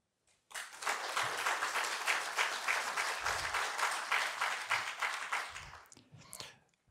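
A lecture audience applauds for the speakers at a talk on the future of basic income, a sustained even burst of clapping from a room of listeners that starts abruptly and tapers off at the end.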